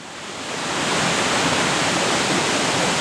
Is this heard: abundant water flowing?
yes